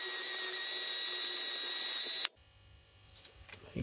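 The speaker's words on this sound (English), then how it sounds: "I'm just going to clean the thread up a little bit on them." A high, steady whining tool, probably a wire wheel or brush, cleans the threads of an old nut and bolt from a 1975 Corvette Stingray ball joint. It runs loud and close for about two seconds and then cuts off, leaving faint handling noises.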